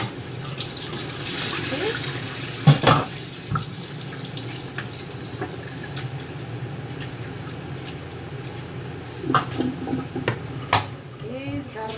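Tap water running steadily into a sink while raw meat is washed by hand, with occasional clinks and splashes, a voice speaking briefly near the end.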